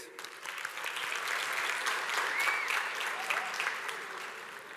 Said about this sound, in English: I think you all deserve a round of applause, ladies.